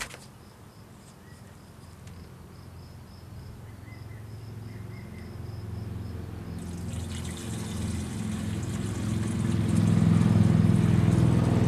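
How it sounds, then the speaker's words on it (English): Water is poured into the reservoir of a GFx generator, starting as a quiet trickle and swelling into a louder, steady splashing flow as the pour goes on, with no talking. "now remove the lid and we'll pour our water in"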